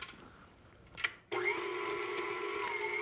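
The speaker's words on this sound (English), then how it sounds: "Let me start that creaming." An electric mixer creaming cookie dough ingredients with an organic egg starts up abruptly after a brief clunk, then runs as a steady close whirring hum with a high motor whine.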